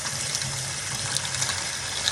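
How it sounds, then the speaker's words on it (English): Cold tap water rushes steadily into a container used for rinsing a wig, a close, even gushing flow with no talking. "go ahead and give it another fill up with cold water"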